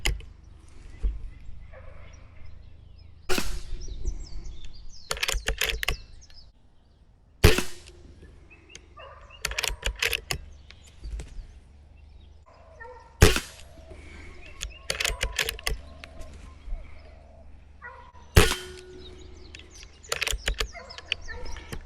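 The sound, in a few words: Air Venturi Microstrike air pistol shots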